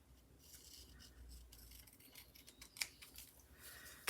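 Scissors snipping paper for a junk journal, faint close-up cuts and rustles with a couple of sharper clicks, no voices.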